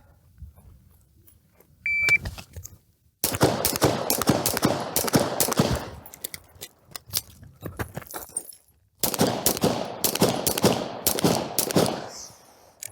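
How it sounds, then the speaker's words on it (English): Rapid strings of gunfire ring out in two long bursts of many close, sharp shots, with a faint beep before the first, during a timed shooting drill putting two torso rounds on each target. "you are then going to deliver 2 rounds onto each target once again in any order"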